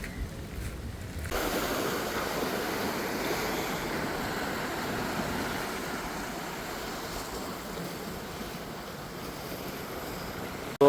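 Sea surf breaking on the shore directly behind a seaside church, a steady roar of waves mixed with gusty wind noise, continuous and fairly loud across the whole stretch with no voices.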